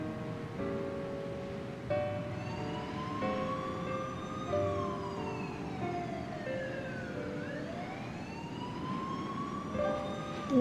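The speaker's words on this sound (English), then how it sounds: "she could faintly hear the sound of police sirens" Police sirens wail in the nighttime Shibuya setting of the video game 428: Shibuya Scramble, several overlapping tones rising and falling steadily through the whole stretch over a low background bed, with no talk.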